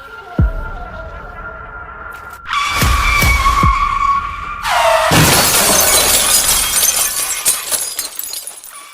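Car in an anime mountain race braking hard, with tires skidding loudly in bursts alongside crashing, shattering glass-like impacts, all intense and close with no talking.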